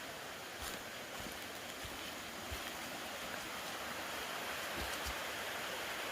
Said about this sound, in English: Here comes another creek crossing.